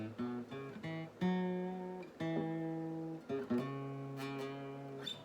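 Electric guitar notes plucked in short blues-solo phrases, with hammered-on notes rising quickly and a final sustained note wavering in vibrato, played alone.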